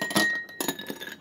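Ice cubes clink against a glass of water, a few bright, close knocks and rattles in quick succession with no talking.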